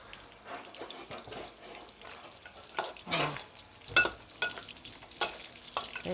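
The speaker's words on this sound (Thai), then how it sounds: "สวยค่ะทอดกระดูกซี่โครงหมู" Pork ribs turning golden as they fry in oil at home, a continuous crackling sizzle with scraping stirs and louder spits and bursts toward the end.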